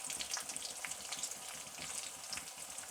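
Pumpkin flowers fry in hot oil, a steady, fine crackling sizzle with scattered bright pops, heard close and alone.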